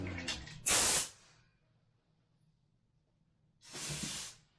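Two sharp hissing bursts from a spray can of glue used under a party bus lift cover, a short blast followed by a pause of quiet, then a second longer spray, close to the listener.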